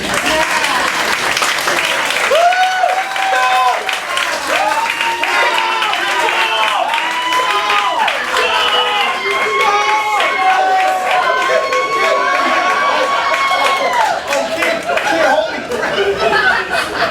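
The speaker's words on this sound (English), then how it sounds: "They're clapping for me." Audience applause and cheering fill the space continuously, dense and steady, with chatter and voices mixed through and some laughter.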